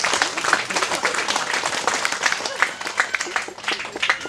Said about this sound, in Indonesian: Mari kita tepuk tangan buat Tuhan.